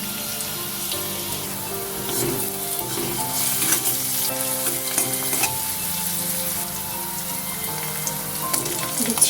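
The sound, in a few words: onion frying in pan for egg curry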